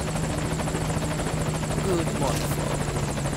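In the video game Metal Gear Solid V: Ground Zeroes, a helicopter drones loudly and steadily nearby, its rapid rotor chop pulsing throughout while a voice briefly speaks over it.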